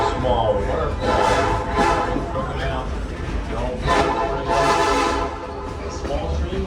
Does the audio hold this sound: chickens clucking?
no